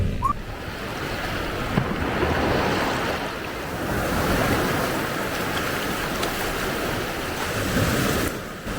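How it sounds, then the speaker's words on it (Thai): Ocean waves wash continuously onto a private hotel beach at Pattaya, Thailand, a steady surging roar with some wind noise and no talking. "บรรยากาศชายหาดก็จะประมาณนี้ครับ"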